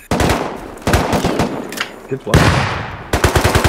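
Video game Rust gunfire comes in several loud, close bursts of rapid automatic shots separated by short gaps, with a voice briefly speaking between volleys.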